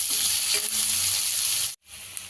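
Broad beans (chikkudukaya) fry in oil in a pan, giving a steady, close sizzle that cuts out abruptly near the end and then resumes more quietly.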